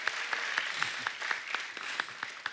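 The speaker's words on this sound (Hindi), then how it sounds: "पागलपंती के लिए जोरदार ताली हो जाए।" A studio audience on The Kapil Sharma Show bursts into steady, dense applause, with crisp individual claps popping out of the wash in a loose rhythm, continuous and moderately loud throughout.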